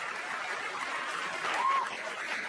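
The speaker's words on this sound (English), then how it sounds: "Mark Norman, please clap for him." An audience at a stand-up comedy show applauds, a steady wash of many hands clapping at moderate volume that continues unbroken from start to finish.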